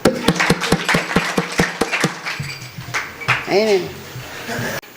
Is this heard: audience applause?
yes